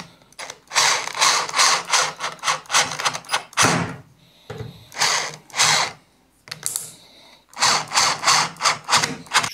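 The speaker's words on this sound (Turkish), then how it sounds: "Gene ince vidalardan atıyorum" A power screwdriver drives thin screws into a cabinet door hinge during a repair, whirring in repeated short bursts with a ratcheting buzz and brief pauses between them.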